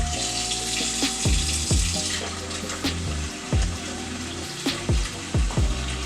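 Tap water running into a cooking pot of oxtail in a kitchen sink, a steady close splashing gush with repeated gurgling plops and knocks, no talking.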